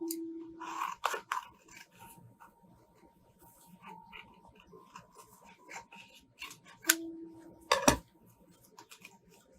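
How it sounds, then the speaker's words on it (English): Scissor snips cutting paper, a few crisp clicks and rasps at close range, with quiet handling noises between them. "now we take the scissors"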